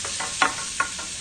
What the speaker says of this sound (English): The sizzling.